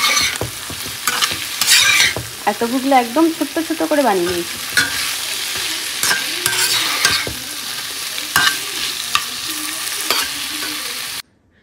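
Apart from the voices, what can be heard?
tofu, potato and carrot frying and being stirred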